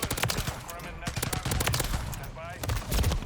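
Taq Eradicator gunfire in Call of Duty MW3 sounds as rapid, sharp automatic bursts in a fast, uneven rhythm, loud and near, with short gaps between volleys and a few brief mechanical clinks.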